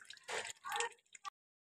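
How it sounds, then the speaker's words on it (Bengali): Thick chicken chap gravy is poured into a serving bowl in two short wet squishing glops followed by a brief drip, up close and quiet, then silence. "এই জিনিসটা আমি সার্ভিং বোলে ঢেলে আসছি।"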